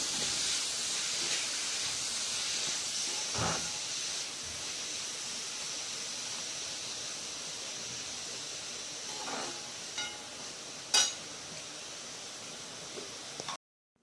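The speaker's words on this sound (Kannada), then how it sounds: "ಚೆನ್ನಾಗಿ ಫ್ರೈ ಮಾಡ್ಕೊಬೇಕು." Chopped onion with salt sizzles steadily in a hot pan, giving a continuous soft hiss with a few faint clinks, fairly quiet and with no talk.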